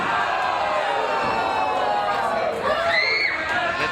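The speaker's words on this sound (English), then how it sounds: "And the crowd is encouraging a second bomb." A wrestling crowd at an AWE Culture Shock match between Dementia D'Rose and Mickie Knuckles roars and cheers steadily, egging on a senton bomb, with a commentator talking over the noise.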